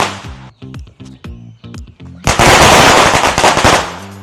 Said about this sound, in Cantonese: 燒炮仗啊！